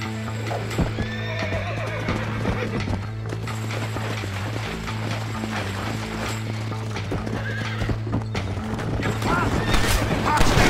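A horse in the Red Dead Redemption video game repeatedly whinnies and neighs while its hooves clip-clop steadily, all over a constant low hum of background game sound; the neighing grows louder near the end.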